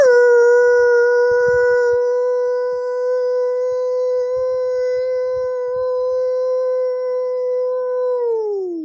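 A dog howls in one long, steady, sustained note lasting several seconds, loud and close, before the pitch sags downward at the end, with no talking over it.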